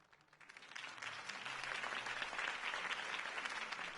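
Crowd applause at a political campaign rally in Batman: The Telltale Series, dense clapping swelling from quiet to a sustained, steady roar over about four seconds, with no talk over it.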